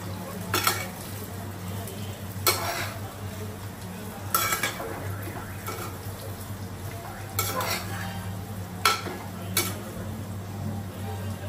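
Muthiya dough being stirred and mixed with chili and salt in a bowl, with repeated scraping and clinking strokes of a utensil at a steady pace over a low background hum.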